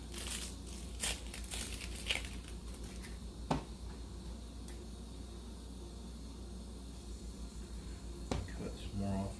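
Papery skin pulled off a halved red onion, giving a few sparse, close crinkles and dry crackles over a quiet background.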